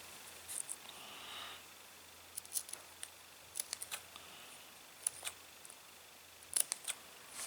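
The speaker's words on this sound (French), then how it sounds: "vous prenez vos ciseaux et vous le coupez." Small scissors trim the leftover cord flush after a splice: a series of faint, crisp snips and clicks spaced irregularly in a quiet room, with no talk.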